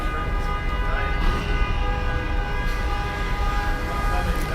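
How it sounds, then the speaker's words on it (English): Car alarms going off near an escalator exit at a bay resort, sustained tonal horn-like whining blaring steadily and loudly over a low rumbling background. "These fire alarms. Not fire alarms. Car alarms."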